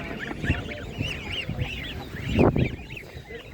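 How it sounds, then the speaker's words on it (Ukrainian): A goose at an outdoor animal market honks repeatedly in loud, close, nasal bursts, with a few irregular gaps between calls and light market background beneath. "Гарна вже підрощена гуска."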